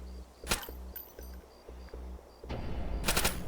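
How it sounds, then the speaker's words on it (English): Gunfire in the video game Call of Duty: World at War, on a rarely used outskirts area of a map: a sharp shot, then a loud rattling burst near the end over a steady pulsing background hum. "pretty fun to just sit here and shoot sometimes"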